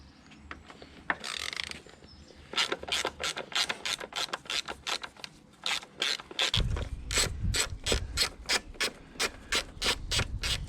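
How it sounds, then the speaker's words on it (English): Ratchet wrench undoing the seat bolts on a 2009 Kawasaki ZX10R motorcycle, a long run of sharp rhythmic clicks close to the listener, speeding up toward the end, with no speech. "we can get to the bolts holding the seat on."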